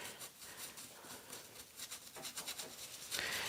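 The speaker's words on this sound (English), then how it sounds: "I'm really kind of scrubbing it down in here." A paint brush scrubs thick paint over a mixed-media surface with soft, close, rapid rubbing strokes, faint and steady, with a slightly harsher scratch at the end.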